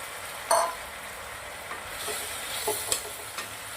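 Green-corn manchurian sizzles steadily in a hot pan while a utensil stirs it, with occasional scrapes and clicks over the constant close frying hiss.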